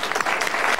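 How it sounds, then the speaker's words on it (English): A studio audience at a rotisserie infomercial applauding, a brief burst of dense, steady clapping. "I hope you're not clapping for the fat, really."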